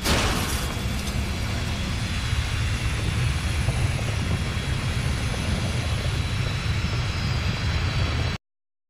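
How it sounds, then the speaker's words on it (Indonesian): A powerful jet engine roars steadily and loudly throughout, a continuous broad rumble that cuts off abruptly at the end. "Mereka melakukan perjalanan mereka sendiri dengan menaiki pesawat tempur melintasi Amerika Serikat"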